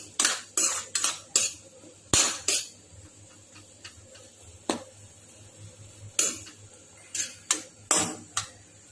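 A spoon scrapes and clinks against a metal bowl while black pepper is mixed into spiced potato samosa stuffing, with about a dozen sharp, close clatters in irregular bursts and quiet pauses between them.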